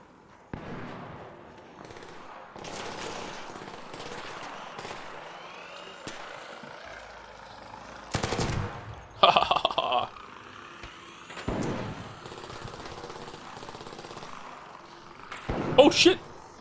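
Gunfire in the video game ARC Raiders comes in bursts and single cracks, some rapid and clustered, loud against quieter stretches, while someone talks between them.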